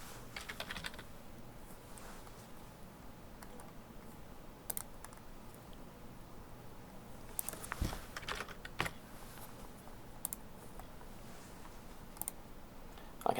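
Quiet typing on a computer keyboard as task details are entered, irregular soft key clicks in uneven bursts with brief pauses, close and alone.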